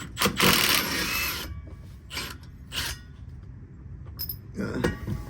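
An 11 mm socket wrench on a swivel works loose a transmission bolt on a 2001-era Chevy Tahoe, its ratchet clicking in a few short close bursts separated by pauses, with no talking.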